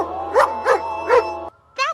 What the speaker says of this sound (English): That's just a dog in a spacesuit.